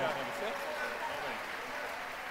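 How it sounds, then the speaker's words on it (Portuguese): An audience at a fashion show runway event applauds for a violinist, a steady wash of clapping that carries through while a presenter's amplified voice speaks over it. "Uma salva de palmas pra ela."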